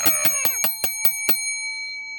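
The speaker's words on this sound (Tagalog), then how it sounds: "Ito na yung bell ni Kuya Elmer" A small bell is struck about seven times in quick, even succession, then its bright tone rings out and fades, heard up close with no talk.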